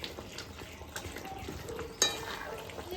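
Gondhoraj chicken is stirred with lemon juice in a pan, giving a soft, quiet sizzle with faint scraping and a single sharper clink of a utensil against the pan partway through.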